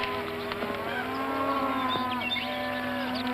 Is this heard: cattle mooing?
yes